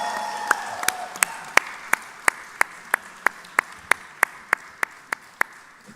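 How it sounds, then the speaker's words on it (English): Hand claps for a round of applause and congratulations during an interview with Ram Charan, marking his father's birthday; sharp, evenly spaced single claps ring out one after another at a steady slow beat, fairly close. "So big round of applause and big congratulations."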